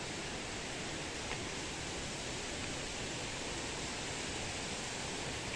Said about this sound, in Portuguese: Só barulho de água aqui.